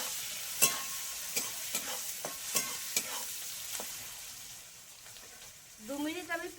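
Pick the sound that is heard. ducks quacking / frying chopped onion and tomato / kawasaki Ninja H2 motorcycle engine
frying chopped onion and tomato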